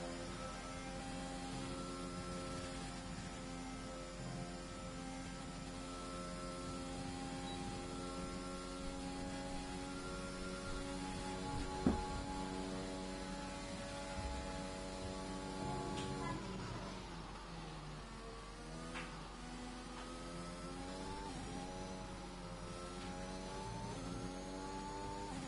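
Onboard engine of a McLaren Formula 1 car in the F1 2021 racing game at Belgium, a high steady whine that climbs through gears with brief dips on shifts, continuous and close throughout.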